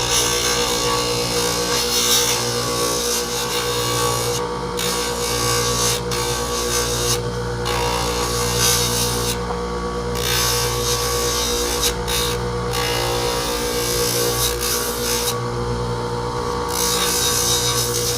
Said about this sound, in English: You might not see that I'm using my lathe to trim.